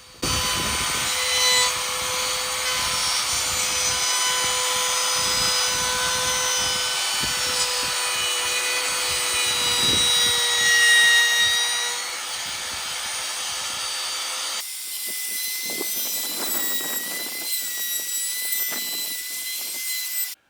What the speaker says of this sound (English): I route the edges again with the same 1/8 inch router bit.